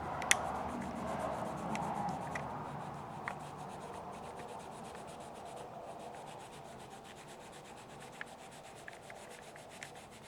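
Colored pencil shading on paper with light pressure, a soft continuous scratchy rubbing close up that fades as the strokes lighten, with a few faint ticks and no talking.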